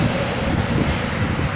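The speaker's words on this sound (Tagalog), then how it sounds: "Mahangin siya guys ngayon." Strong wind blows outdoors near a house on a cold day, a steady broadband rushing roar that holds at an even level throughout with no voices.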